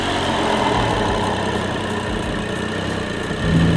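A BMW 535i with a turbocharged N55 engine runs steadily, a loud continuous engine drone with a dense, even hum and a slight swell toward the end, no voices over it.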